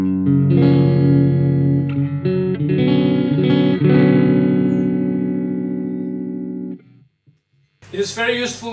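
A distorted electric guitar through a Randall T2HL amp rings out in sustained, saturated chords, fading away before a brief burst of talking.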